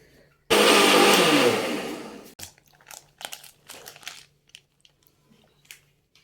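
Mixer grinder blending pineapple with sugar, water and ice cream in the jar: a loud whirring burst lasting about two seconds, then scattered clicks, clatter and jar handling.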